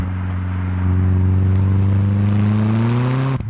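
A VW Polo 6N2 with a swapped-in 1.8 turbo engine pulls hard in fourth gear, a loud, close drone steadily rising in pitch for about three seconds before cutting off abruptly at the end.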